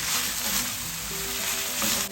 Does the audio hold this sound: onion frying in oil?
yes